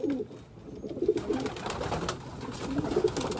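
Racing pigeons in a breeder's loft give low, soft cooing calls in short repeated phrases, moderately close, over a faint background of room noise.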